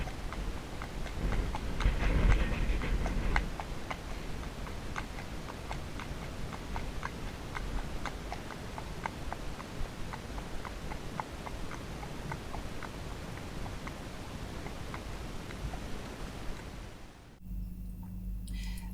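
A ridden horse walks at a steady pace, its hooves clip-clopping in an even, regular rhythm that continues for a long stretch, close and fairly quiet, with no talking.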